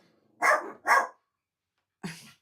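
Household dogs bark indoors: two quick loud barks in close succession, a pause, then a third bark, all near and clear.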